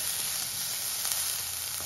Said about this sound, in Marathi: इथं 1 मोठा कांदा आपल्याला बारीक चिरून घ्यायचा आहे आणि तो छान पहिला या कांद्यामध्ये तेलामध्ये परतायचा आहे